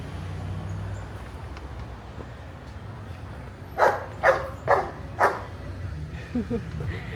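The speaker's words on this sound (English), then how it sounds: "We've got a territorial doggy." A territorial dog in a small Ohio town barks four times in a steady run at mid-distance, then gives a couple of softer yips, with quiet outdoor background around it.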